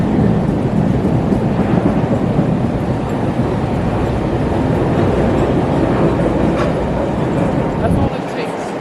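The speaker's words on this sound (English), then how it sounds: "Bye-bye train." A Chicago rapid transit train pulls away on third-rail power, its loud, steady rumble and wheel roar filling the whole stretch before dropping off sharply near the end.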